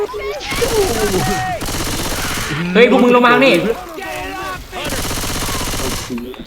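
Rapid bursts of gunfire in the video game Left 4 Dead 2 crackle throughout, with excited shouting voices talking over the shots.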